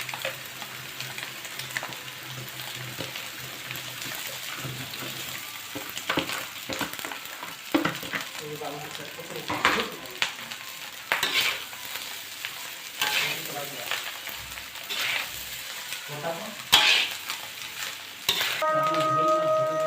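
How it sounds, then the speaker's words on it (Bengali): Rice is stir-fried in a pan with cooked meat: steady sizzling with repeated scraping and stirring strokes, close and fairly loud, with no voices. "এবার এই রাইস ঢালবো"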